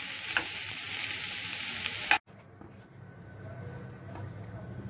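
Vegetable momo filling sizzles loudly in a pan, and then a lid or plate goes on and the noise suddenly drops to a soft, muffled simmer that continues quietly, with no talking.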